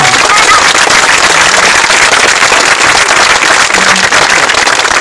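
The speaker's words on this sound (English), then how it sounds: "you can definitely applaud her for that" Loud, dense applause from a large audience, a continuous wash of clapping that holds steady from start to finish with no voices standing out.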